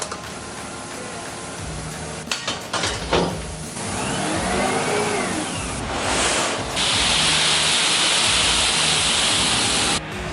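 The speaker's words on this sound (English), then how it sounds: "This gravel is here and it's getting dumped right now." Gravel is dumped from a truck at a bus conversion site, a few clanks giving way to a long, loud, hissing rush of tumbling stones, with engine noise underneath.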